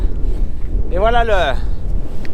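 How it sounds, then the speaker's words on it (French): Strong, gusting wind at the North Cape buffets the microphone with a continuous low rumble. A voice speaks briefly over it in the middle. "Et il y a du vent. Beaucoup de vent."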